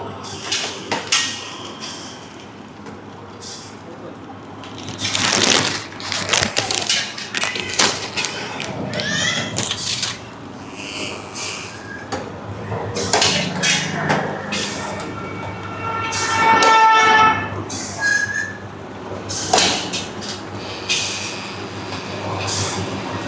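A mechanical packing machine filling 5-gram rice packets and side-sealing them, with repeated hisses, clunks and whirring bursts in an uneven working rhythm, close and moderately loud.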